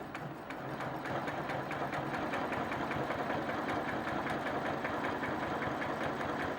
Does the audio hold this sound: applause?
no